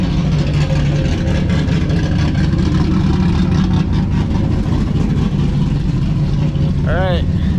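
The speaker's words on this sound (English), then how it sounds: "This car's so loud." A loud Camaro Z28 V8 engine with a newly fitted 700R4 automatic transmission runs steadily throughout, a constant low rumble filling the clip, with a brief rising chirp near the end.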